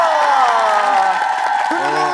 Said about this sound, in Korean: 선배에게 박수 부탁드립니다